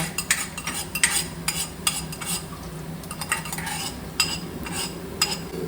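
Garlic fries in a pan, with a low sizzle under frequent sharp clinks and scrapes of a metal spoon against the pan.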